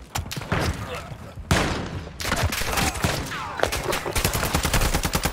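Heavy automatic gunfire in a Call of Duty MW2 DMZ round, loud close bursts and fusillades filling the whole stretch with a few brief pauses, under occasional voice chat.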